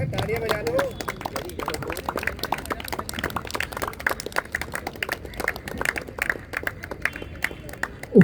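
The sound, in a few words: audience applause at a closing ceremony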